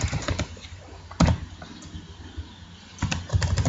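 A name is typed on a computer keyboard in short, close clusters of clicky keystrokes separated by a quiet pause, with no talking.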